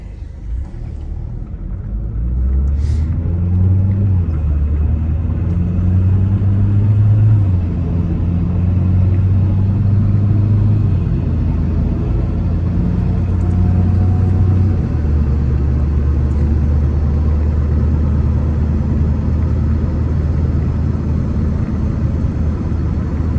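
A car undergoes DCT 470 transmission testing after a rebuild, its engine rumbling low and steady nearby with slow shifts in pitch as revs rise and settle, then holding an even drone.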